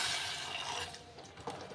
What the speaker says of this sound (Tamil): இதில் 1 கப் தண்ணி ஆட் பண்ணிக்கோங்க.